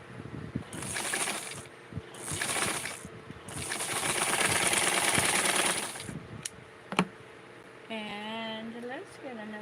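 A sewing machine stitches fabric in three close, whirring bursts, the last one longest, followed by a couple of sharp clicks and then a voice talking.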